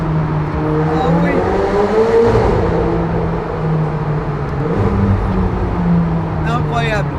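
A supercar with its roof removed drives along a road in Paris, its engine droning steadily and loudly throughout while people talk over it.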